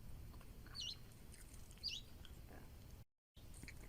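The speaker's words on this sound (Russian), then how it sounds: "Птичка что-то говорит." A small bird gives two short, faint, high chirps about a second apart over a soft outdoor hiss, with no speech.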